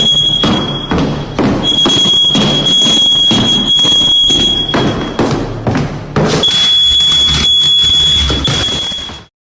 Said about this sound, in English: suddenly, the fire alarm blares without warning